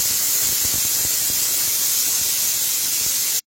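A pressure cooker on the stove vents a loud, steady hissing whistle of steam while cooking rice for a Mangalore-style breakfast, close and unbroken until it cuts off abruptly.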